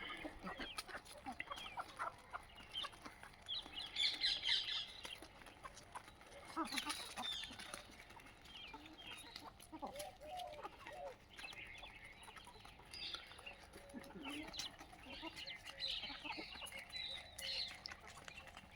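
Free-range desi hens cluck and chatter in a busy mix, some calls close and others farther off, with scattered farmyard noises throughout.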